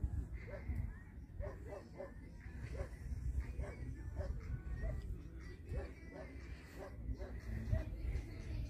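Dogs out with their owners on a beach in Italy, with a few small barks and yips rising over steady wind and surf noise, fairly close, amid other background sounds.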